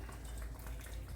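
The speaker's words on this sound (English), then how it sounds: "As you see, it's really boiling." A pot of chicken broth and water boiling on the stove, giving a steady close bubbling and hissing roil without pause for about a second.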